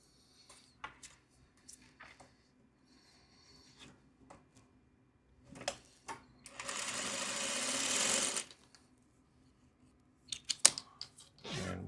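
A sewing machine stitches fabric in short bursts, one sustained whirring run in the middle, surrounded by scattered clicks, snips and handling noises at close range, with no speech.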